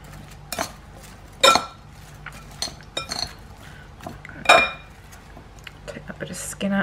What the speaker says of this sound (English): I'm just going to give that a quick mix. And I'm using a knife